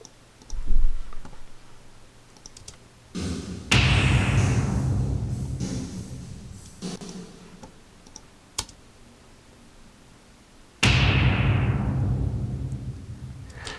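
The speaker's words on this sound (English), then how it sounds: "it's actually a gunshot just with the reverb swell" A sharp burst blooms into a long, swelling reverberant wash that fades slowly, heard twice with a quiet gap between; a processed gunshot with heavy reverb.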